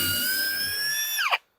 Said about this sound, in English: All you do with this, put it down to the piece, and you're going to drill it.